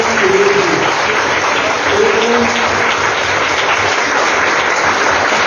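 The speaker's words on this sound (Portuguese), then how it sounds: "Mas vamos bater uma salva de palmas, gente, para esse irmão." A Presbyterian church congregation claps for one of its members, sustained, dense applause filling the room, with a faint tonal hum sitting underneath the steady clapping.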